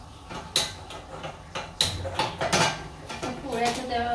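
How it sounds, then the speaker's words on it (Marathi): An iron tava griddle is set down on a home stove to heat, with a few soft metallic clanks and knocks among quieter kitchen handling sounds. "आता तवा जरा गरम होण्यासाठी ठेवणार आहे।"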